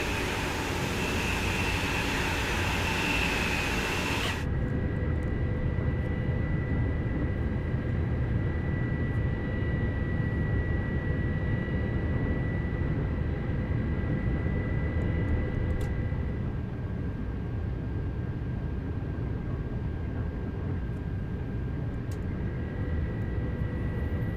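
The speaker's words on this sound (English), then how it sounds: "Oh, another train passing by." High-speed train passing in a train simulator game: a steady, loud rushing roar with a sustained whining tone that shifts midway and continues throughout, with no voices.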